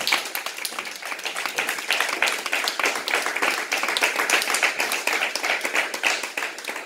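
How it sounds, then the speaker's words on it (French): Church congregation at a Sunday worship service clapping together, a dense, steady patter of many hands applauding continuously at moderate loudness, with no speech over it. "Acclame Jésus."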